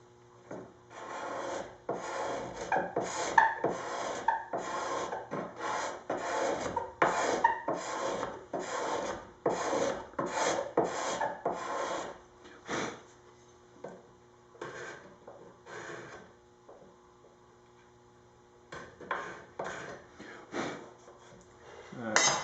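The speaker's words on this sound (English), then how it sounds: "I'm going to try just scraping first" A wooden Les Pauls guitar body is hand-scraped in close, rhythmic rasping strokes that come in steady bursts, then thin out into a few scattered scrapes with pauses before picking up again.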